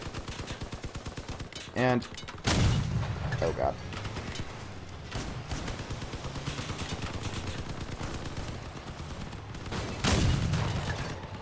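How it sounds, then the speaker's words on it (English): Vehicle cannon on a truck firing in the combat game Crossout, heavy booming blasts at roughly 2.5 and 10 seconds over steady engine rumble and game noise, with someone talking briefly. "I have a pretty effective cannon."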